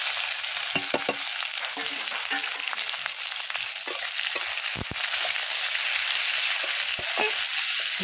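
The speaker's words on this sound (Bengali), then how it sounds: "এরপর তেলে রসুন কুচি আর পেঁয়াজ কুচিটা দিয়ে দেব।" Chopped garlic and onion fry in oil in a kadai, making a dense, even hiss close up, broken by scattered sharp pops and light stirring clicks. No one talks.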